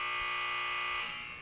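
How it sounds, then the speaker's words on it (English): A steady electronic buzzer drones loudly and continuously for over a second before tapering slightly, with no talk over it. "buzzer."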